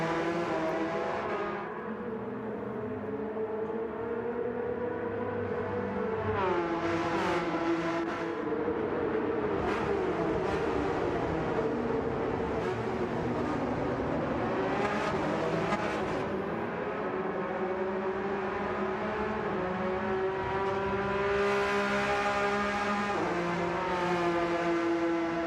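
Race car engines, including a Porsche, in a GT racing game: a steady, continuous engine drone with rising and falling revs through gear changes, loud and sustained throughout.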